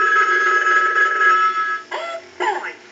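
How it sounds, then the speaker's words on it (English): An animated Mickey Mouse telephone, triggered by a line analyzer's ring cycle, rings with a steady electronic trill and then breaks into short, bouncy voice-like chirps as its animation starts, loud and close. "we'll send a ring cycle. So we'll start that, and he'll go into his animation"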